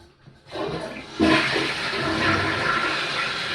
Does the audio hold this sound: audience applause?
no